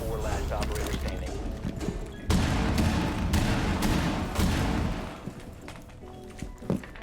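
A grenade blast and bursts of gunfire in the Rainbow Six Siege video game, a heavy boom near the middle with broken shooting around it, while a player talks over the action.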